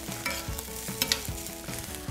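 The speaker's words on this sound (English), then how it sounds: "Let's give our beans a quick little stir." Kidney beans being stirred in a pan of stir fry with sesame oil and rice vinegar, a soft sizzle under a series of rhythmic scraping strokes about twice a second, close and unaccompanied by talk.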